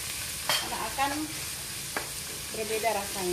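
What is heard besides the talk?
sautéing spice paste in a pan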